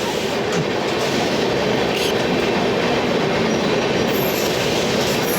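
The Jogbani–Anand Vihar Seemanchal Express rolls slowly past at a crossing near Ghaziabad, a loud continuous rumble of wheels on rails with rhythmic clatter and occasional brief squeals, close by.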